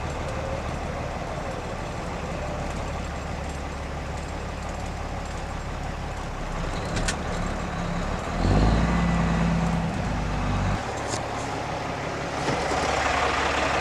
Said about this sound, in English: I got sidetracked because the W900 pulled in with the Cummins in it and brought a little steam flake